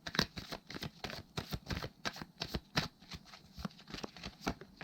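Tarot cards being drawn and shuffled from a deck, a steady stream of close, crisp flicks and riffling snaps, continuous and fairly quiet, no talk over it.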